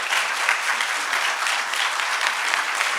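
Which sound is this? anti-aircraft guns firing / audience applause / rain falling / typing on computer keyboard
audience applause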